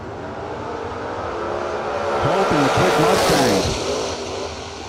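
A drag racing car at a torque event rips the throttle, its engine revving hard and rising to a loud, close peak with sweeping pitch before tapering off, no talk over it.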